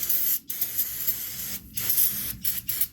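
Brake cleaner sprays from an aerosol can onto the actuator of a 2020 Jeep Wrangler in several close hissing bursts separated by short pauses.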